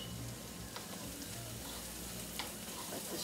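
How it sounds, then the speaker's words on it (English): Food sautéing in a pan ahead of the ham going in, a steady close hiss of frying with faint stirring, continuous and without talk. "Let this saute, and then I'll throw the ham in."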